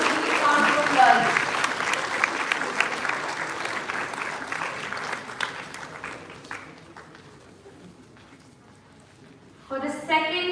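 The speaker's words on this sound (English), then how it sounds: "Please give a round of applause." Applause from an awards audience starts fairly loud, then thins and fades over several seconds before a fresh burst of sound returns at the end.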